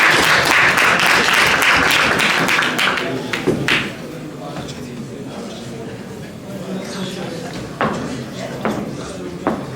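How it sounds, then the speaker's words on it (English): An audience at a boxing press conference gives a loud round of applause that gradually thins into scattered claps, with a speaker talking over the room. "Let's give him a big round of applause."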